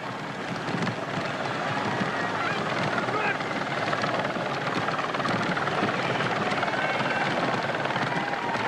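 A television helicopter follows the Paris–Roubaix 1994 cycling race, its rotor giving a steady, loud, continuous beating drone with faint background crowd noise throughout.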